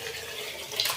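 Washed rice is tipped into a pot together with its soaking water for tomato bath, making a brief, continuous splashing pour that grows a little louder near the end.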